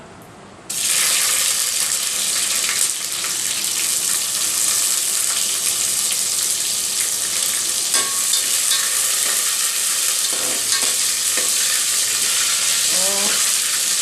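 Green chillies hitting hot oil for a kadhi tempering with cumin, mustard seeds and curry leaves burst into a loud, dense sizzle that holds steady and close for the rest of the clip, with occasional spoon scrapes.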